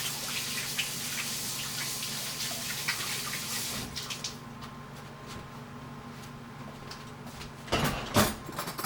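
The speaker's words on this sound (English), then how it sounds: "I'm going to rinse my hands off really quick" Hands are rinsed under a running kitchen tap while pie crust is being made. The water flows with a steady hiss, broken by brief louder splashes near the end.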